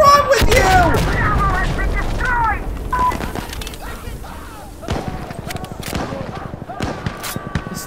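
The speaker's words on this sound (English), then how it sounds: "Stop firing RPG rounds at everything, please." RPG rounds fired and exploding in Insurgency: Sandstorm, heavy booms and cracks followed by scattered gunfire and sharp impacts trailing off, with voices shouting under the noise.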